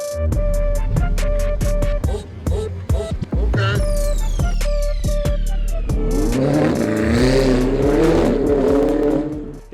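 Ferrari 488 fitted with a Quicksilver exhaust revving hard in cold weather, loud close blips rising and falling, then a sustained high-revving roar with a sweeping whine, wheels spinning for lack of traction.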